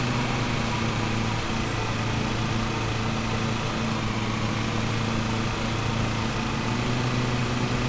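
A video-game lawn mower engine from Lawn Mower Simulator runs at a constant, loud drone with a steady buzzing hum, unchanging for the whole stretch and heard alone without speech.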